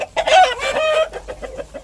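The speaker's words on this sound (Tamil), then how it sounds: "கோழி நடக்க விட்றா, கால் மடங்கிட்டு இருக்கு." Chickens on a poultry farm cluck and call close by in quick, uneven bursts, one louder drawn-out squawk near the start, with no talk over them.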